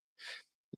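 One short, breathy sneeze bursts out clearly at close range, followed moments later by a brief soft vocal sound.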